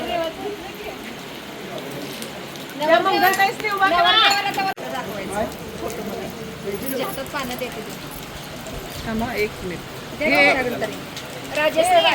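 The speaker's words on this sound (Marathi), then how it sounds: "नवऱ्या मुलाची हळद झाली आणि नेमका पाऊस सुद्धा खूप पडत होता" Heavy rain falls steadily outdoors during a wedding haldi ceremony, a continuous patter under lively nearby voices and chatter of guests.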